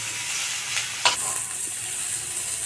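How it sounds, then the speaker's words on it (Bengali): Chopped carrot and ginger fry in a pan with a soft, continuous sizzle, broken by a few sharp stirring scrapes near the middle, and no one talks. "সবজিগুলোকে আমি হালকা করে ভেজে নেব"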